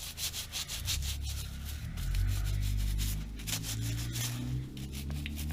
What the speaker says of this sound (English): I'm basically cleaning off the corrosion inhibitor.